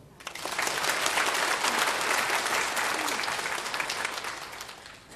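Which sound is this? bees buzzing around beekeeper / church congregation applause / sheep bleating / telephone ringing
church congregation applause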